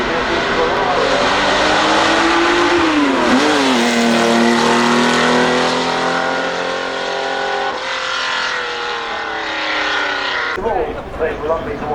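A Ferrari race car running the hill at Goodwood Festival of Speed, a loud sustained engine howl that swoops down and back up in pitch, with commentary talk over it, before fading near the end.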